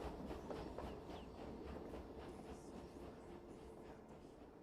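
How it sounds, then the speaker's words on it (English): A train in the Indiana Jones and the Great Circle video game rushes along at high speed, a dense steady rumble with rhythmic clickety-clack and hiss, loud and continuous with no voices. "Seems like that train is moving unnaturally fast for some reason."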